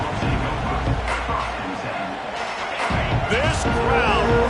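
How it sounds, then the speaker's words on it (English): A packed football stadium crowd at a Notre Dame vs LSU college game roars in a dense, continuous wash of noise beneath a commentator's voice, swelling slightly toward the end. "This crowd, full throat, splitting the eardrums"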